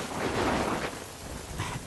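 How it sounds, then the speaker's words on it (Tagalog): Heavy rain pouring steadily with low rumbling thunder rolling underneath, a dense continuous wash of sound with no talk. "Grabe, lakas ng ulan."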